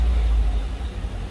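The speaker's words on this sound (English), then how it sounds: "Man, this is like the quietest LS I've ever heard." An LS V8 swapped into a square body truck idles quietly with a steady, low rumble throughout, close by and even, with no voices.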